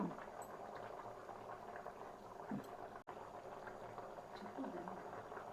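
Chepala pulusu, a fish curry, simmers in a covered pot, a soft continuous bubbling and gurgling at low volume with faint speech in the background.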